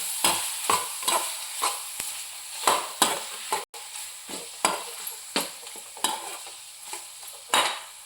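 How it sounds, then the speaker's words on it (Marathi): Kolhapuri chicken masala is stirred in a pan, a spoon scraping through it in regular strokes about once a second over a steady frying hiss, close and clear with no talking. "आणि हे आता आपण असं छान हलवून घेऊया."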